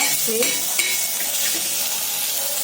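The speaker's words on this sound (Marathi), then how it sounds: "कांदा थोडासा हे झाला भाजायला" Onion roasts in an iron pan, a steady close sizzle with a light stir and a clink or two over it.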